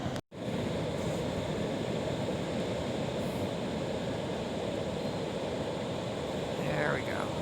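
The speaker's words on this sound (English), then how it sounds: "Just hearing the ocean and watching the waves crash on the rocks is very relaxing." Ocean waves crash onto the rocks at Big River Beach near Mendocino, California, a loud, steady roar of surf with wind rushing over the microphone, after a brief drop at the start.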